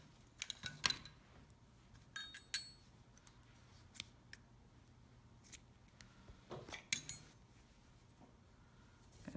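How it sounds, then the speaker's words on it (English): Scissors snipping yarn during crochet work on a waffle stitch washcloth, giving a few faint, sharp metallic clicks spread apart over low background hiss. "so I need my scissors"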